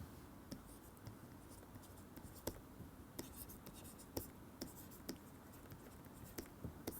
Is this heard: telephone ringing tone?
no